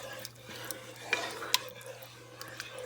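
Soup being stirred in a pot at a church hall supper, quiet spoon scrapes and clinks against the pot with a couple of sharper knocks, over a steady low hum.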